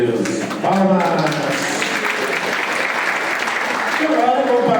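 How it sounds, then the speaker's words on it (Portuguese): Congregation applauding during a Catholic triduum celebration in church, a dense steady wash of many hands clapping at once, with brief voices over the start and near the end. "Glória a Deus. Palmas."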